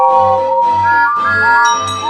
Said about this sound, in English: Whistled the engines.